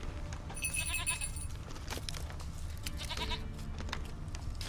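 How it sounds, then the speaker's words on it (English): A goat in The Witcher 3: Wild Hunt gives a short bleat over a busy game background of wind and ambient noise, moderately close, followed by scattered clattering sounds. "There's that goat again."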